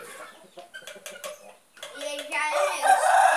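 Chickens clucking and peeping nearby, with a rooster's call rising toward the end over a busy barnyard background.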